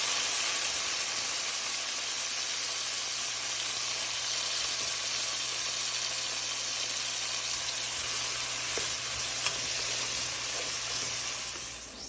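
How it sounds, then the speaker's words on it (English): A dense, steady sizzle of beans frying in hot popping oil, loud and continuous throughout with faint crackles, while cooking Haitian duri kole. "So now, add the beans to the oil. Be careful, it's popping."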